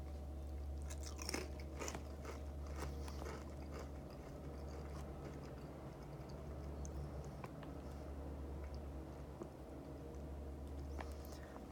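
Close, steady crunching and chewing of cricket-flour tortilla-style chips with chia seeds and cheddar-Romano seasoning, a run of dry crisp bites continuing without talk.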